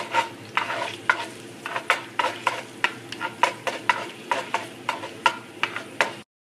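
Garlic frying in oil in a chicken tagine, with a steady sizzle broken by regular, fairly loud scraping strokes of a utensil, about two per second, close and without speech.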